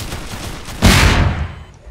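A landmine blast in Roblox erupts suddenly as a single loud, booming burst with a rough, crackling tail that fades over about a second.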